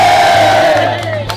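A street rap-battle crowd in Malate lets out a brief, loud collective roar and shout that tapers off within a second or so.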